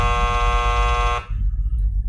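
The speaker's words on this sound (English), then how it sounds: "All we got is a hockey buzzer." A hockey buzzer blares loud and steady for just over a second, then cuts off abruptly, leaving a low background hum.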